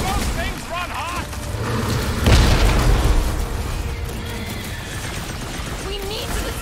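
A deep booming explosion in Marvel's Guardians of the Galaxy bursts out amid dense game combat noise, with character voices and shouting underneath before and after the blast.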